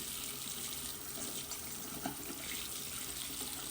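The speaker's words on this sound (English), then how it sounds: "Now I'm going to turn on the water. The water is turned on, and I'm going to wet my toothbrush head." A bathroom water tap runs steadily to wet a toothbrush head, a close, continuous splashing hiss into the sink with no talking.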